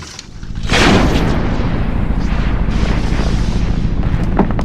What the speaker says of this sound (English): When it rolls over an anti-personnel landmine, it's heavy enough to detonate the explosive.